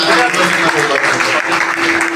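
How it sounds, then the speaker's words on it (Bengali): An audience at a World Blood Donor Day cultural programme in Bagerhat claps steadily and fairly loudly throughout, with a constant hum underneath. "সবাইকে অনুরোধ জানাচ্ছি করতালির মাধ্যমে"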